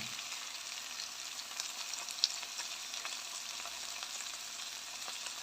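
Chicken breast drops into hot oil where peppers have been fried, giving a steady, even sizzle with a single faint click midway and no voices.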